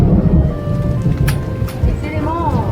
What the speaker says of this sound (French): Et là l'orage gronde.